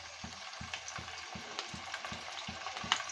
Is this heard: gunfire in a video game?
no